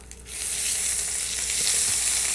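Asafoetida powder and fresh ginger hit a hot pan and break into a loud, close sizzle that starts abruptly and keeps up as a steady frying hiss, with faint stirring scrapes, no talking.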